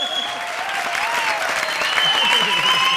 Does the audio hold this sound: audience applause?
yes